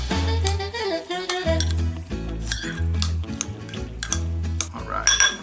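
A spoon stirring lime juice into a jalapeño popper sauce in a bowl, with repeated clinks and scrapes of metal against the dish in an uneven rhythm, close and fairly loud, with a low hum underneath.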